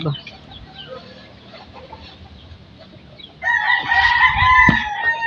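Chickens cluck and crow on a farm as they peck at feed being set down, a quiet stretch of scattered bird calls followed by a louder, busier burst of clucking close by.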